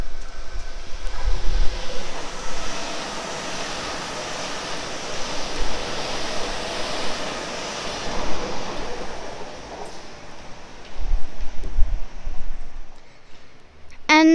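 A Sydney Waratah suburban train bound for the City Circle rolls past at Ashfield, a steady broadband rumble and rush of wheels on track that swells and holds for the full stretch, with no voices over it.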